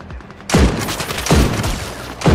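Loud, close gunfire in a video game comes in rapid bursts: a hard volley, a short rattling stretch, another heavy burst near the middle and a third at the end.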